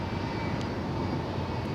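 Boeing 757 jet engines at Los Angeles International Airport spool up on the runway for takeoff, a steady, broad, distant roar with no voices over it.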